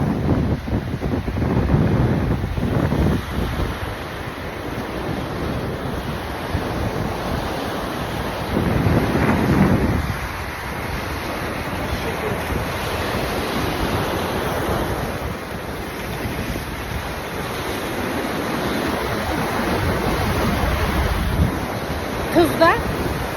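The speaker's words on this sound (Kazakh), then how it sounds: "Екінші толқын алып кетіп қалды." Sea waves surge and wash onto a beach on the China Sea coast, a steady broad roar with swells rising and falling, mixed with wind buffeting the microphone.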